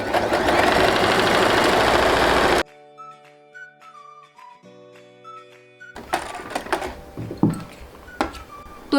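A sewing machine stitches elastic onto palazzo pants with a loud, dense, steady mechanical whir. The whir then cuts out, leaving a quiet stretch with faint tones, before uneven handling clatter follows.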